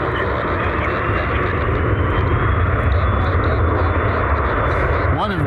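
A Cessna Citation private jet departing an airport, its loud, steady engine roar filling the air with little change throughout, while someone talks nearby.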